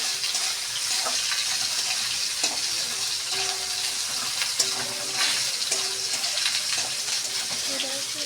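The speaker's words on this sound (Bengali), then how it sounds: "এবার একটু পেঁয়াজটাকে ভালো করে ভাজা ভাজা করে নেব" Onion frying in a pan with salt and turmeric makes a steady moderate sizzle, broken by occasional light clicks and stirring sounds, with faint tonal noise in the background.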